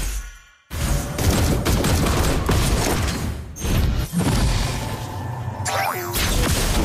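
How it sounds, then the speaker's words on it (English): Granger's bullet barrage in Mobile Legends, a loud continuous volley of rapid gunshots with booming impacts and brief breaks, heavy game effects with no speech. "Behold, my crescendo of bullets!"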